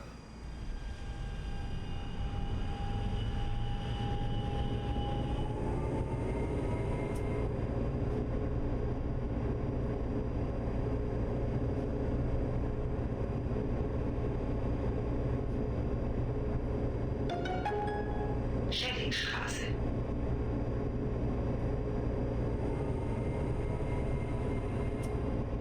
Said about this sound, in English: Tram on the opposite side, that's pretty cool.